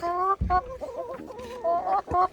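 Chickens clucking close by, a few short squawky calls and warbling clucks in quick succession with no talking.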